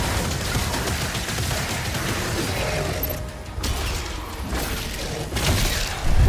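Sustained rapid-fire gunfire from a weapon in the video game DOOM: The Dark Ages, a loud continuous mechanical barrage with dense overlapping shots and clanking, briefly dipping midway before resuming.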